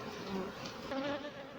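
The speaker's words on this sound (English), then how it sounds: "What you see here is basically all the bees from the swarm." A swarm of honey bees humming at a beehive in Jamaica, a dense continuous buzz with no talk, steady and moderately close.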